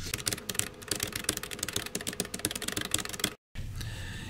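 Rapid, close computer keyboard typing with dense, irregular key clicks that run steadily for a few seconds, then break off into a brief silence before a softer sound follows.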